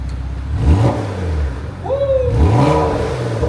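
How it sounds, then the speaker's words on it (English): A car engine revs up twice after an exhaust button is pressed, rising and falling in pitch, loud and close, with a steady idle rumble between the revs. "Push the button again, Push it. and then rev it again."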